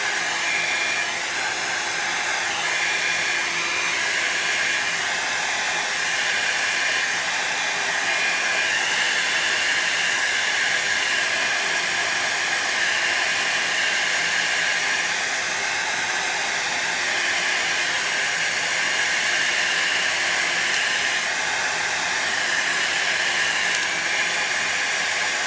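A hair dryer blows steadily and continuously on its hot setting, drying alcohol ink art, a close, even hiss and whir with no pauses for the whole stretch.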